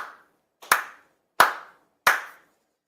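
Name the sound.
four ritual claps in a Shinto-style ceremony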